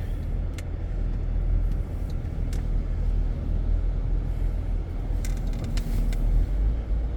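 A 2003 Cadillac CTS pulling away after a rear brake replacement, a steady low engine rumble and road noise throughout with a few faint clicks and squeaks, close and continuous.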